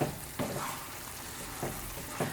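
Banana halwa with chopped cashews is stirred in a pan as it cooks down, a soft low sizzle broken by a few distinct scraping strokes of the spoon spaced about a second apart.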